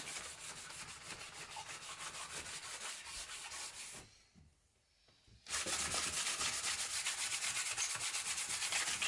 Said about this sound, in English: What I do now is use heavy brown paper, like the stuff often used for packaging material.